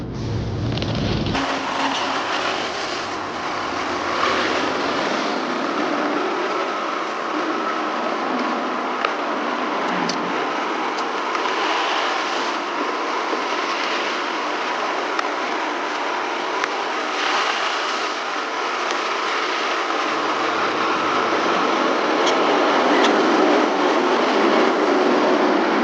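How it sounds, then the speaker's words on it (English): Automatic car wash at work on a car bought at auction, heard from inside: steady loud rushing spray and whirring brushes that shift in intensity as the machinery passes, continuing throughout with no talk. "It's our first car wash, man."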